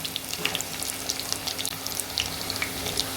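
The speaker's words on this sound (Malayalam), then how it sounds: "ഉലുവ ഇട്ട് പൊട്ടിച്ചിട്ടുണ്ട് കടുക് ഇടണ്ടേ" Fenugreek and mustard seeds spluttering in hot oil, a constant close sizzle studded with quick sharp pops and crackles, with no voices.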